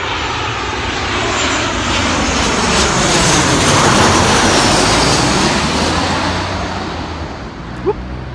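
A fixed-wing airplane flies overhead along the flight path near a coffee shop, its engine roar swelling steadily and loud across the whole stretch before fading slightly at the end.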